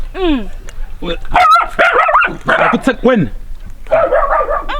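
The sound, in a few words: dogs barking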